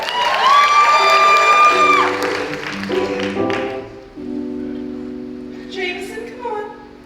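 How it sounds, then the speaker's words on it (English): Applause and cheering from the audience at a live uncensored puppet show at Knott's Scary Farm, a loud burst of clapping and whoops that fades after about two seconds, followed by music and voices. "let's start them off with some applause"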